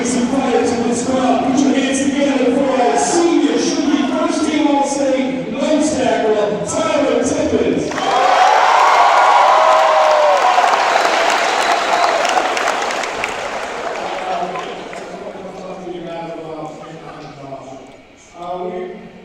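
School assembly crowd at Mona Shores ahead of the state finals bursts into loud applause and cheering for a senior player, a dense roar swelling after an announcer's voice and fading off toward the end.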